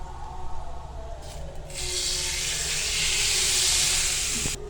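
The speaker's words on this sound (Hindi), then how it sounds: "तो यहाँ पे मैंने इसमें लगा दिया तड़का।" Spices for a Lahori beef harissa are tempered in hot oil, a steady loud hiss and sizzle that swells after a quieter start and holds without a break.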